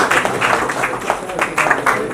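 An audience claps at a retirement function in a short, dense burst of applause that rises and falls, with a voice faintly underneath.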